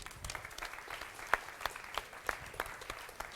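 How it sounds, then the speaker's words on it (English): An audience applauds steadily, a crowd of hands clapping at moderate distance with a few sharper claps standing out. "please give them a warm round of applause"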